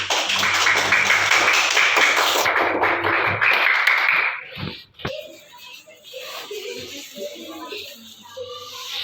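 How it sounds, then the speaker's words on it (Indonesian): Schoolchildren from grades 1 and 3 at an elementary school clap together in class, a dense, fairly loud patter for about four seconds that breaks off into scattered taps and children's voices. "tepuk tangan bersama kita nak"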